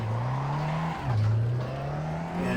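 A small car in a racing simulator on the Nürburgring track drones steadily as its engine note climbs, dips at a gear change, then rises again, loud and alone.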